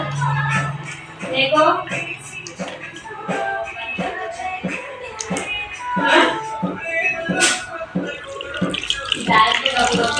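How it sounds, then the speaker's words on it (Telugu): Tamarind juice pours into a pan of fish curry with a splashing, trickling gush in uneven bursts. A voice talks over it. "ఇప్పుడు దీంట్లోకి మనం చింతపండు రసం అయితే పోద్దామండి"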